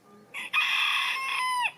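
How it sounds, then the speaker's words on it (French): A rooster with a red comb crows once outdoors on a family walk, a loud, close, drawn-out call lasting over a second after a brief opening note. "Ah, c'est le coq qui nous accueille."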